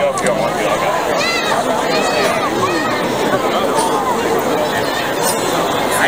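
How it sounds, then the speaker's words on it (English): A packed crowd at the MomoCon 2019 convention fills the air with continuous, close, overlapping chatter and voices, a dense babble with no pause. "We gotta battle through a crowd."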